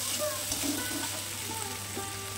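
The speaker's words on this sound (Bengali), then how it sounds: "তো এবার এইগুলো সব কিছু দিয়ে এইভাবে করে একটু কষিয়ে নিতে হবে।" Chopped tomato and whole chilies sautéing over full flame in a pan, a soft continuous sizzle and crackle with faint stirring, heard close and alone without talk.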